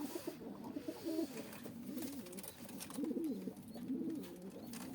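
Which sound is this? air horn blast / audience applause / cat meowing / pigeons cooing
pigeons cooing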